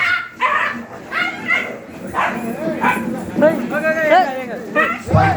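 Several dogs bark, yip and whimper at close range in irregular bursts, rising to a cluster of sharp barks near the end, mixed with people talking.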